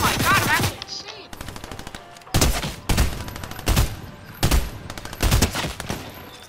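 Rapid gunfire in Fortnite: bursts of sharp automatic shots in clustered volleys, loud and close, separated by short pauses, with a brief voice at the start.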